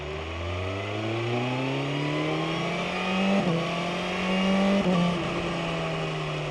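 Motorcycle engine revving loudly up and down through a long rising tone with brief shift dips, close and continuous with no talk; the bike is fitted with an Akrapovic aftermarket exhaust.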